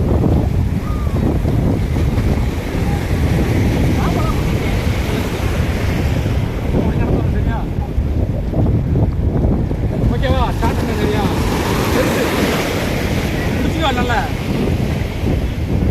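Loud sea wind buffets the microphone on the Varkala floating bridge as waves crash and wash beneath it, a constant roaring rush with surging swells, with voices faintly audible under the noise.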